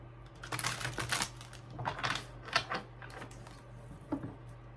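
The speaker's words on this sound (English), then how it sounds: "I'm going to shuffle one more time." Cards riffle and snap in quick, crisp bursts, a few rounds of shuffling, soft and close with a low hum underneath.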